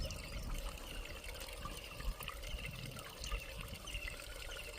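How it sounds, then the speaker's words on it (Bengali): Water poured out to fill a small model river in a shallow-pump irrigation setup, heard as a steady close trickling and splashing stream with no talk over it. "এখন আমরা জল ঢালছি বন্ধুরা।"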